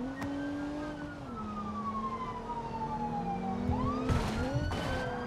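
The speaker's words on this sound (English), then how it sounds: "Those sirens are actually so loud" A loud wailing police siren in BeamNG.drive sweeps up and down continuously, with a second siren tone and a couple of sharp bursts near the end.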